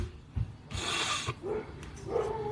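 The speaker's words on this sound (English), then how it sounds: "I have a dog across the way that's always barking" A Lhasa Apso puppy barks and yips a few times nearby, with some rustling in between; no one speaks.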